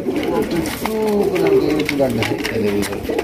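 Pigeons coo in soft, repeated throaty calls at a pigeon farm among breeding pairs with eggs, heard close by under steady conversation between men.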